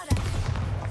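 A Bombarda explosion spell in Hogwarts Legacy, a sudden loud blast that sets off a dense, crackling rumble lasting under a second.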